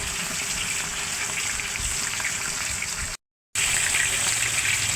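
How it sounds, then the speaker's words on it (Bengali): Chicken roast frying in a pan, a steady hiss of sizzling oil that runs continuously and is briefly cut off for a moment before resuming just as strongly. "মুরগির রোস্ট ভাজা হইতেছে"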